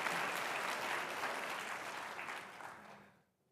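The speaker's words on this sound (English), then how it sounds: "that's worth an applause right there" Audience at a summit event clapping, a loud burst of applause that fades away over a few seconds.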